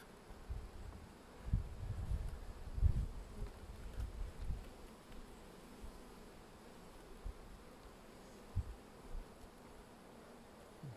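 Bees hum at an opened beehive in a faint, steady drone, with soft rustling and low bumps as the heavy hive box is lifted.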